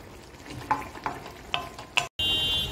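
Fish frying in a pan for a home-cooked greens and fish curry, with a steady low sizzle broken by several sharp spatters and crackles, then a brief dropout and a louder, steadier hiss.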